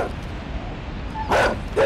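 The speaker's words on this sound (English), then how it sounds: "that dog can jump" A quick, agile dog lets out two short, sharp barks near the end, close by, after a stretch of low background noise.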